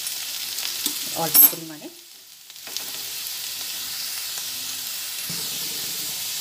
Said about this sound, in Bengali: আলু ভালোভাবে নাড়াচাড়া করতে করতে ভাজাও হয়ে গেছে, আলুটা সেদ্ধও হয়ে গেছে।